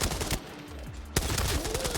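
Gunfire in the video game Arena Breakout Infinite, sniper exchange: a couple of sharp loud shots with a burst near the middle, heavy reverberant crack and rumble continuing to the end, no talk.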